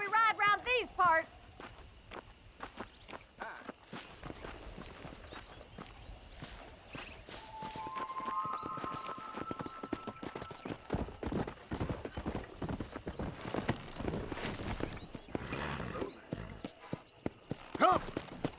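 Horse hoofbeats in Red Dead Redemption, a steady clip-clop of walking hooves with a brief whinny near the start and people talking over the riding.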